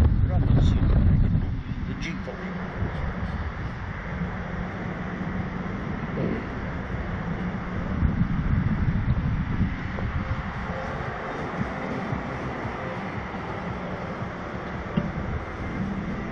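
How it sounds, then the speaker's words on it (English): An airplane takes off, heard from inside the cabin as a steady, rumbling engine roar with wind noise, loudest at the start and then holding a constant drone. "That was a takeoff, wasn't it?"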